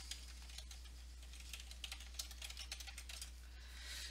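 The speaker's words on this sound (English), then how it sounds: "Type in your email address." An email address is typed on a computer keyboard as a quick, continuous patter of soft key clicks, close and fairly quiet over a low steady hum.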